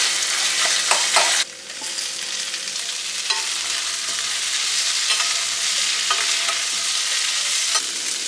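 Chhana cottage cheese frying in spice paste, a loud continuous sizzle close up, broken by a few scrapes and knocks of a spatula stirring, with no voices.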